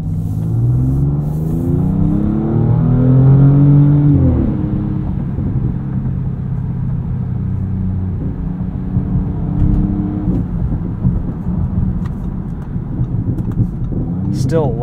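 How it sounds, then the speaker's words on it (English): A 2023 Audi S6 on a night drive, its exhaust giving a steady, close engine drone with rising revs early on, then a settling rumble with small surges, heard under occasional quiet talk. "Still loving this exhaust."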